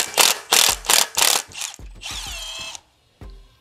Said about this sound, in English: Then all you do is you loosen the tool.